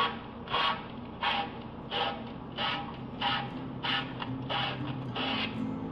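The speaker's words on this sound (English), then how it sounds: "This is 220 grit sandpaper, I believe. And you'll just go around the surface of it." A surface is rubbed with 220 grit sandpaper in a rhythmic back-and-forth, about eight even scratchy strokes, close and moderately quiet.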